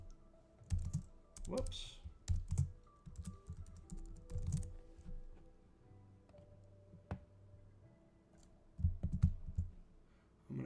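Someone types a folder name on a computer keyboard in bursts of quick key clicks, close and clear, separated by pauses and a few mouse clicks, with a brief spoken exclamation partway through.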